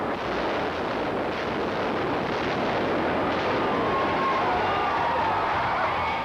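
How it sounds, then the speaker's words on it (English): A huge, sustained roar of an explosion fills the air, dense and rumbling with crackling debris, continuing loudly without a break. "Mel Gibson was our host for this incredible explosion"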